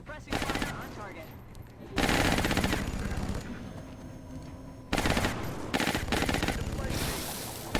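Machine gun suppressing fire in the XCOM Long War video game, loud rapid bursts of automatic gunfire in several long strings with brief gaps between them.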